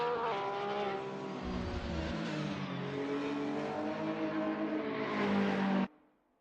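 A GT3 race car in a racing game at Lime Rock, such as a Porsche 911 GT3 R or Mercedes-AMG GT3, drones at high revs with rising and falling engine pitch and hints of tire squeal, staying loud until it cuts off abruptly near the end.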